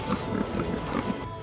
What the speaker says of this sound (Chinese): 小猪听见了其他小猪的声音